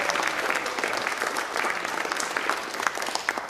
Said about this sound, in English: A round of applause for the Bill of Rights.